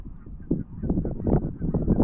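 A dense flock of geese honks continuously, many overlapping calls blending into a busy, fairly close chorus.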